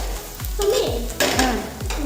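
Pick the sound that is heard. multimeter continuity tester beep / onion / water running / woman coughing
onion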